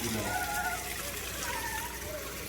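Water runs from a tap into a baby bath, a steady broadband gush filling the tub throughout, with faint tonal sounds and possible background voices mixed in.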